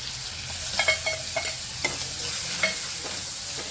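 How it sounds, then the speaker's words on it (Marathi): Cumin and ginger paste sautéing in hot oil for a pea and potato paratha filling, giving a continuous close sizzle with a few scattered scrapes and taps from stirring, no talking. "चांगलं परतून घ्यायचं तेलावरती"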